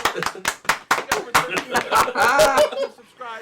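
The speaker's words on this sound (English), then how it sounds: "let's get another round of applause for Jason Garrett. Everybody clap Your hand." A small group clapping hands in a sharp, rhythmic burst of distinct claps during a live stream football reaction show, close and loud, with talking mixed in before fading out.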